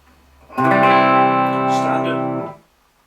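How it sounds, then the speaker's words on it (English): Electric guitar chord played through a rack-mounted chorus effect, a thick shimmering tone that rings out loud and close for about two seconds, then stops, heard alone. "maybe a bit of chorus, nice fat chorus like that"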